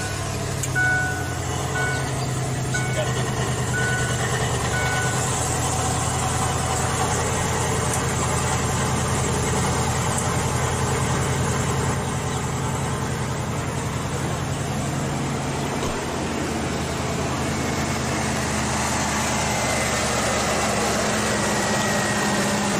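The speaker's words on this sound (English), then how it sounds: "we're gonna be able to start it without electrolysis and run this engine." A supposedly water-powered engine, one said to start without electrolysis, runs at a steady idle for the whole stretch, a constant loud mechanical drone with no talking.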